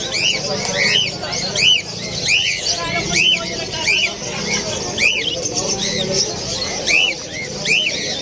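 Small caged birds chirp in a rapid repeating pattern, a bright burst roughly every second, over a steady crowd murmur with people talking at a busy pet market in Malabon.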